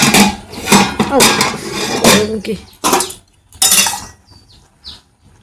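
Dried lentil dumplings (bori) are poured into a spice container at close range, giving several loud clattering, rattling bursts separated by short pauses.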